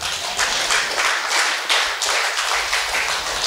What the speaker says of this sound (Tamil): கைத்தட்டு பாப்போம்.